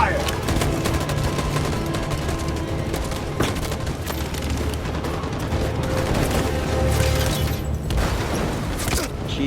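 Sustained gunfire volley in Detroit: Become Human, loud and dense with repeated shots and booms filling the whole span, with voices faintly underneath.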